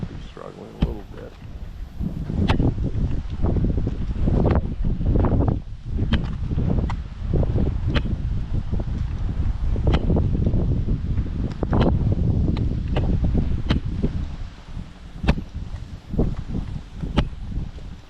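Strong gusty wind buffets the microphone outdoors on a walk along a trail, rumbling low and uneven with rustling and intermittent crackles, fairly loud throughout.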